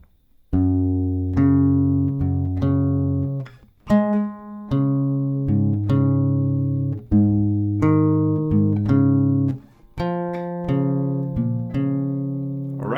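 A slow melody on acoustic guitar, with plucked notes and chords ringing out in unhurried phrases, brief pauses between groups, played close and clear.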